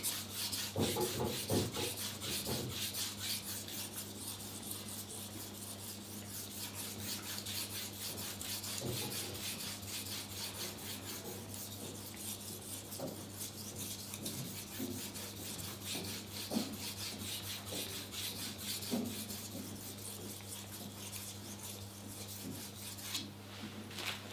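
A knife is drawn over a Shapton Glass 8000 grit whetstone in soft, steady, rhythmic rubbing strokes, quiet and close with no talking.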